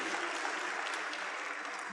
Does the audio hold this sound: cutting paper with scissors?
no